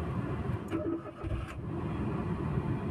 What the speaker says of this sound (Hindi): देखिए गाड़ी को अभी स्टार्ट करेंगे